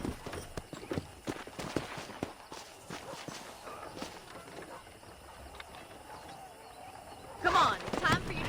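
Horse hooves clip-clop at a steady walking rhythm in the Red Dead Redemption video game, moderately close, with a louder burst of movement near the end and faint game ambience around them.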